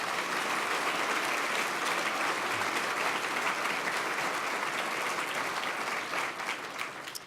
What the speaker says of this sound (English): Let's give Walter Scott another round of applause